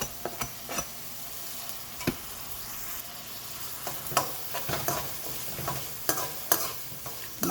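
Tomatoes and green chillies fry in hot oil for a prawn curry, a low sizzle under repeated sharp scrapes and knocks of a spoon stirring against the pan at an irregular pace.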